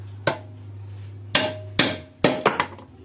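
A hammer is beaten against a Mitsubishi car wing panel during bodywork repair. About six sharp, ringing metallic strikes land at irregular intervals, close and loud, with no talking.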